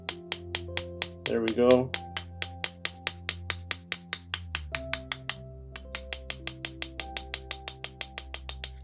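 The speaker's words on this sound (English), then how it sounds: "use my little hammer, and once I hammer it out, it will pop out from this side" A small hammer taps a pin out of a watch band on a Tissot T-Touch, giving a long run of sharp, evenly spaced metallic ticks at close range, with a brief spoken remark and a low steady hum underneath.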